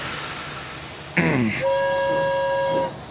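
A steady whistle-like tone, a guard's whistle, rings out after a brief clatter, held for about a second and a half over the low rumble of a train on a railway line.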